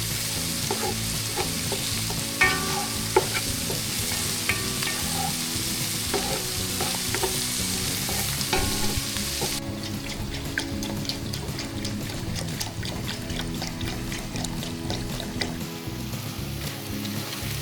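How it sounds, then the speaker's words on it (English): A flour roux sizzles in a hot pan while it is stirred to break up clumps for a mushroom garlic gravy. The scraping and frying run continuously and closely, with a brief tap-water sound and no speech. "Trying to break up all the flour clumps so it's not too bad."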